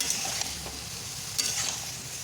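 Vegetables with salt and turmeric are stirred in a pan for shukto, a soft scraping stir with light sizzling, quiet and close, and a couple of sharper spatula knocks against the pan.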